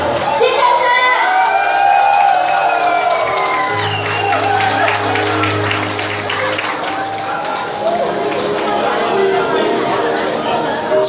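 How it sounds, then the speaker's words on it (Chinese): Wedding guests in a banquet hall cheer, whoop and scream for the groom: a dense, loud crowd roar with shrieks and chatter throughout, a steady low hum in the middle. "所以现场的贵宾朋友们尖叫声给我们的新郎文腾。"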